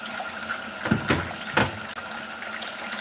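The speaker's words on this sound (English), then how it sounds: "I'm just going to wash it, clean it up like really good, and put it in the pot" Cut yam is rinsed under a running tap, water splashing and gushing in a few short bursts over a steady background flow, close and moderately loud, no speech.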